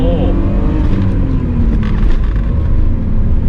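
BMW 323i E36 from 2000 with a manual gearbox, its engine starting and revving hard; a loud, steady engine roar holds through the whole stretch, with speech over it.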